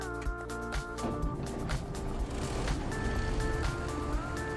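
Truck engine droning in the off-road driving game SnowRunner, a steady tonal hum with layered harmonics and low rumble, moderately loud and continuous.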